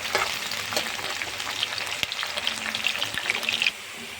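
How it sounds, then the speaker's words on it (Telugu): Green chilies and onions fry in oil for a chicken curry, a dense continuous sizzle and crackle with a few stirring clicks, close and fairly loud, no voices. "పచ్చిమిర్చి, ఆనియన్స్ ఇలా బ్రౌన్ కలర్ వచ్చేంత వరకు ఫ్రై చేసుకొని"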